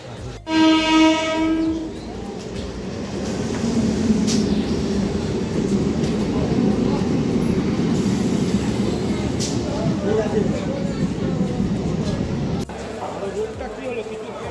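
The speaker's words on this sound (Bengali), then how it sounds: "2 মিনিটের মধ্যেই নেক্সট ট্রেন চলে এসেছে" A train horn sounds briefly, then a loud, steady rumble of a Kolkata metro train rolling into a station, with a hiss and a clunk near the end.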